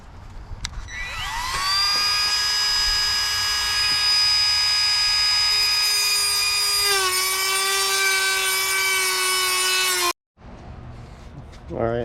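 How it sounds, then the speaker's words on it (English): A smaller grinding wheel spins up to a loud, sustained high whine while cutting through metal during a boat system install, shifting pitch briefly as it bites, then cutting off abruptly near the end. "had to switch grinding wheels because the other one, the diameter was too big"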